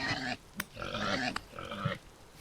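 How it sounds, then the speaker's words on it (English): Pig grunts from the video game Vintage Story come in three separate bursts with short gaps between them. The grunts are moderately loud and close, with a couple of brief clicks mixed in. "I swear there was a pig. Oh, there it is."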